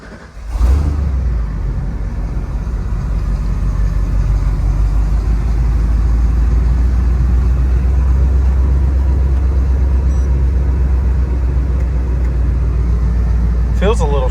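A 1992-1997 Ford truck's engine catches after a short crank and settles into a steady, close, low rumbling idle that runs on unchanged for the rest of the stretch.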